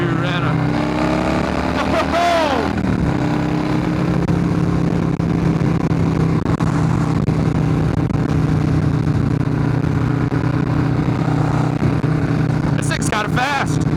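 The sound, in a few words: Perewitz custom Harley-Davidson Softail Slim motorcycle riding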